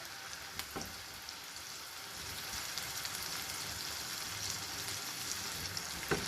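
Tomato paste goes into a hot pan of golden fried garlic, and a steady, moderately quiet hiss of frying and sizzling continues throughout with a few faint clicks, no speech.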